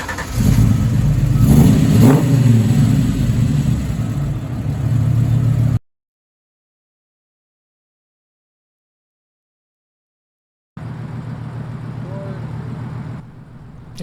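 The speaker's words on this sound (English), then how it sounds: "And you know what the best thing about the TVR S2 is? Aside from the fact that I can fit in it, it's the engine." Late-1980s TVR S2 sports car engine revving loudly up close, a rough mid-pitched roar for several seconds, then a silent gap before the engine returns at a lower idle-like level.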